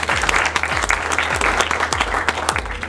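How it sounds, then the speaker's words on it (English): An audience at a regional council MOU signing ceremony claps steadily for a few seconds, a dense, even patter of hands over a low background hum. "Let's give her a hand of applause."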